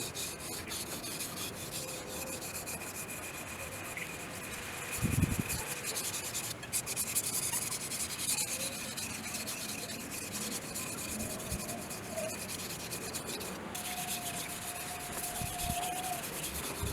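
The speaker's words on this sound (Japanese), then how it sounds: "それでは刃先、中肉を削って好みの形状に修正していきます。" A VG10 Damascus steel gyuto knife edge being ground by hand, a faint, continuous rhythmic rasping and rubbing of steel on stone, with a brief knock partway through.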